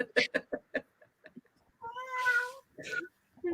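A cat meows once in a long, drawn-out wail, fairly close and clear, after a burst of quick clicks and taps, with soft background sounds around it.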